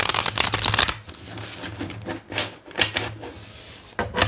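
Tarot cards being shuffled during a card reading, a dense riffling patter that runs loud at the start, then continues in quicker bursts close up with no talking.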